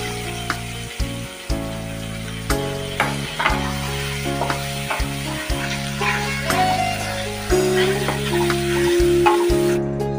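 Onions and tomatoes fry in a pan right after the eggs come out, with a close, steady sizzle. A utensil gives several sharp scrapes and knocks against the pan, and music plays in the background.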